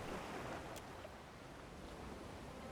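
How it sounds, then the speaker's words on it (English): Ocean waves roll steadily around a ship's hull beside a large dhow in the Pillars of Eternity 2: Deadfire game, a continuous wash of surf and wind with no letup. "the massive dhow's hull rolls on the waves beside your ship"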